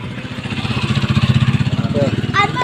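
A motorcycle engine chugs nearby in a rapid pulsing rhythm, swelling and fading slightly over a few seconds, with voices calling out over it.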